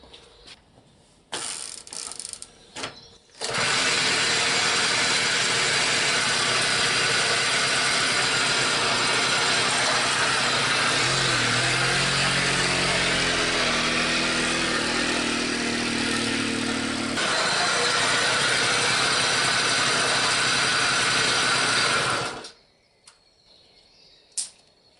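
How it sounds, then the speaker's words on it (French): A Peugeot 101 engine, freshly freed after seizing, runs with loud rough grinding from rusty worn bearings, a constant harsh mechanical whir that starts abruptly, holds steady for about twenty seconds, then cuts off. "ça fait un bruit de roulement de malade"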